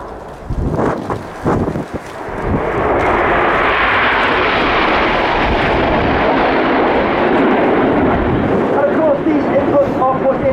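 Red Arrows jets fly in formation at the RIAT 2023 airshow, their engine roar swelling from a distance into a loud, sustained rushing roar that dominates the scene, with some crowd noise at the start.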